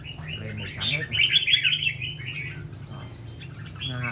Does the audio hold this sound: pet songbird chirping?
yes